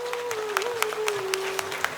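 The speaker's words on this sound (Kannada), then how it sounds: "ದಯಮಾಡಿ ಜೋರಾಗಿ ಚಪ್ಪಾಳೆ ಬರಲಿ." Audience at a religious consecration ceremony claps briskly, a dense patter of many hands with a steady tone humming underneath throughout.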